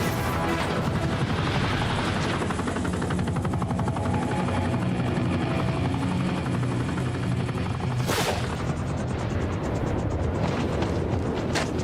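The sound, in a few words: helicopter in a video game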